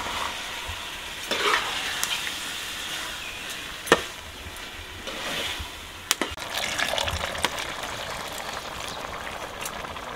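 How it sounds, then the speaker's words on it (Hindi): Water goes into a sizzling pan of cooking keema with stirring and scraping, a few sharp clicks of a spoon against the pot, no talking. "दो गिलास हमने इसमें पानी डाले"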